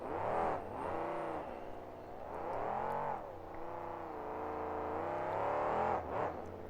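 Monster truck engine at a 2006 monster truck show in Pontiac, Michigan, revving loud and close in rising and falling surges with harmonic whine, swelling hard near the start and end of the stretch.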